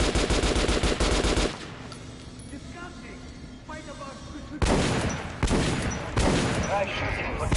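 Guns fire at a shooting range in a Metro video game, with dense rapid bursts that pause and then resume loud and close.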